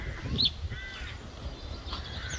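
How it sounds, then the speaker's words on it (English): A yellow village weaver at Welsh Mountain Zoo gives a harsh, scratchy call, a sharp burst near the start followed by fainter rasping notes, heard at moderate distance over low outdoor background noise. "That's a village weaver, the yellow one."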